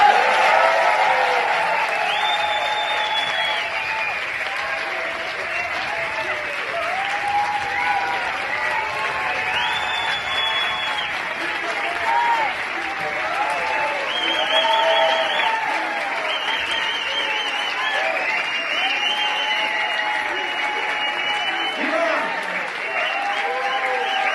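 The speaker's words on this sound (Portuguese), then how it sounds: "essa galera vai bater uma salva de palmas para Julian" A large audience claps continuously for the whole stretch, a dense, steady wash of applause with a few cheers and voices mixed in.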